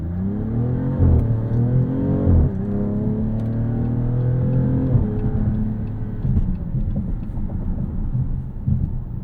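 A 2026 Dodge Charger Scat Pack four-door accelerates up an entrance ramp in auto mode, its engine note rising steadily with audible gear changes, a close, continuous rumble heard from inside the cabin with no talking.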